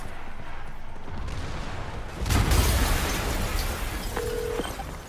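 A loud explosion booms out in Spider-Man PS4 Remastered, a sudden low blast that rises over steady game ambience and then settles into a rumbling tail, with a short electronic tone following.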